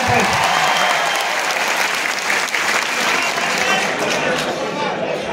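A crowd at a student career guidance event in Nanded applauds steadily, dense clapping holding at an even, loud level throughout.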